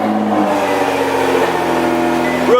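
A straight-piped Nissan GT-R engine holds a loud, steady drone close by, running on without talk, with a slight lift in revs at the very end.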